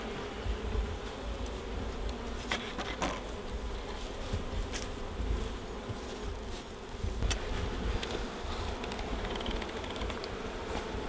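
Honeybees swarm and buzz around an open hive while the upper brood box is being worked in Southeast Georgia: a dense, steady, close drone with a few sharper passes of individual bees.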